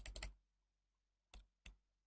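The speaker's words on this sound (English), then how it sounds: "so I will hit H through the keyboard" Computer keyboard keys clicking sharply up close, a quick burst of three taps followed after a pause by two more separate presses, crisp and isolated in a quiet room with no speech.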